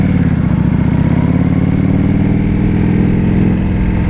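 A 2025 Indian Scout Bobber motorcycle engine while riding gives a loud, steady, close-up drone with a low rumbling pulse that holds evenly throughout, with no voices.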